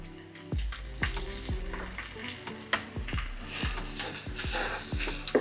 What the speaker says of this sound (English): And then we're gonna add some minced garlic